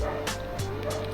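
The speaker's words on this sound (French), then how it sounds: "Désolé si vous entendez le chien qui est dehors." The neighbours' dog outside gives a quick series of three or four distant barks, muffled and faint beneath a constant background hum.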